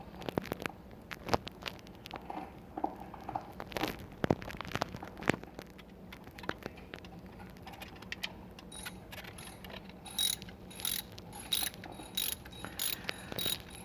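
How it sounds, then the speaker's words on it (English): A ratchet with a T50 bit undoes the long bolt holding an idler pulley to the engine case of a Mercedes W220/W210, sounding as quick repeated ratcheting clicks in uneven bursts, with denser, sharper clicking toward the end. "undo the long bolt that holds the pulley"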